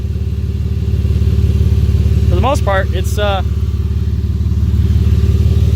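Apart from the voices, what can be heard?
M52 B28 naturally aspirated car engine, stock exhaust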